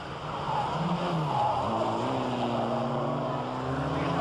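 Rallycross race cars, including a Toyota, battle for the lead at a 1994 European Rallycross event, with steady engine drone and shifting pitch as the cars run close together at moderate distance.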